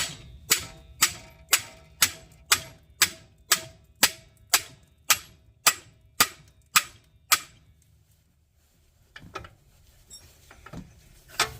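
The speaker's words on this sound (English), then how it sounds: "just keep banging it in until it snaps right off" A hammer strikes a pickle fork driven into a control arm ball joint on a 2013 Nissan Sentra, about fifteen sharp metallic blows in a steady rhythm, then a pause and a few quieter scrapes and clanks.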